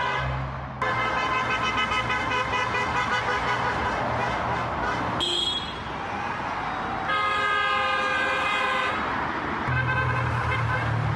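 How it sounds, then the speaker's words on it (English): Car horns blare from vehicles driving past a house, with long sustained honks following one another almost without pause, loud and close. "Everybody's driving by honking"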